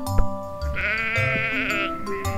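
A sheep bleats in one long, wavering, close call with a shorter bleat after it, loud and alone on a farm.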